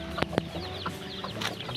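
Hens clucking in a pen crowded with chicks, several overlapping clucks and short calls close by, with steady farmyard background and no talking.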